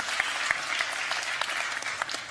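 An audience at a policy conference panel applauds a speaker, a short burst of steady, fairly soft clapping from many hands in a hall.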